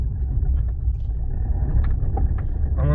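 A car engine pulls in second gear while driving, giving a continuous low rumble and road noise that stays steady and close, with faint cabin knocks and a brief voice near the end.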